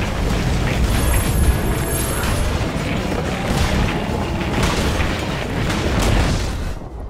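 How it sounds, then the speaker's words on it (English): A tower crumbles in the video game Dota 2, a loud sustained crashing, rumbling collapse with dense debris noise running for several seconds, then cut off abruptly at the end. "Dire's bottom tower has fallen."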